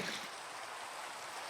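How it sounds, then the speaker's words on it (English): A bucket of water is placed in Minecraft, giving a steady, soft rushing wash of flowing water that holds evenly from start to finish at low level. "I'm gonna put a bucket of water down."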